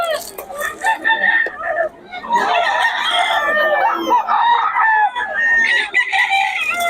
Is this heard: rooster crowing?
yes